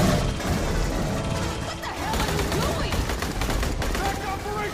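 Dense, rapid gunfire from the Aliens: Colonial Marines video game, firing in sustained bursts with sharp crashes and booms. It stays loud and constant throughout the stretch.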